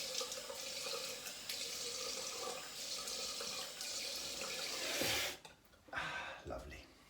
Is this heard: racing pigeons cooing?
no